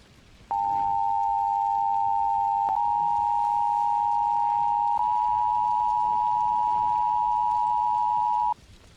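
Emergency Alert System attention tone, a loud steady electronic tone holding for about eight seconds with slight shifts in pitch, heard alone over a faint background hiss.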